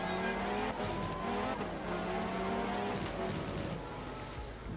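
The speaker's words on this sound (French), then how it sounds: "Deuxième contact avec un ballot." Rally car in the Art of Rally video game, a Cosworth-engined machine, driving on grass and bumping a hay bale again, with a steady loud engine drone, gear-shift pitch changes and tire scrub throughout.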